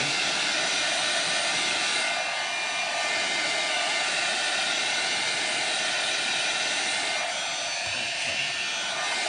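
A handheld heat tool drying Couture Ink on a shirt to heat-set it gives a steady, loud, close blowing whoosh with no pauses and no talking.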